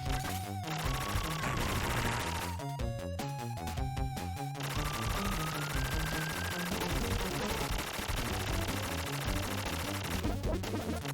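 Rapid gunfire rattles continuously at a cannon in the video game Contra Hard Corps, dense shots layered over loud game music and effects for the whole stretch.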